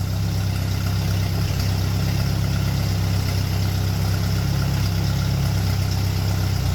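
An old $300 auction tractor engine runs steadily with a deep low rumble, loud and close, holding an even idle-like drone throughout with no voices.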